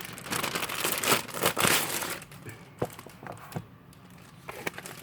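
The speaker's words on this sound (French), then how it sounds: "désolé pour les bruits de papier" Paper crinkles and rustles as magazine pages are leafed through, close and fairly loud at first, then thinning to sparse crackles and soft page sounds.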